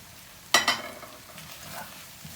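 Oil with salt, black pepper, chili flakes, garlic and a little cumin is stirred in a pan for a zucchini and potato gratin. One brisk scraping stir brings a sudden sizzle, which trails off into quieter frying and a light second stroke.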